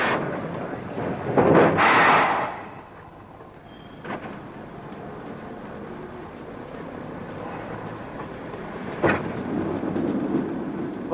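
A tram rumbles along its rails with a low rolling drone, a louder roaring swell early on and occasional clanks and bumps.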